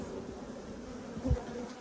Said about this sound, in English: I just saw a real fat bee run around that corner. Probably a drone.